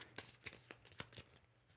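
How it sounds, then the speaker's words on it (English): Board game cards from a Star Trek: Captain's Chair deck being shuffled, a quick run of soft riffling snaps and papery flicks close by, with no voices. "We'll shuffle this up."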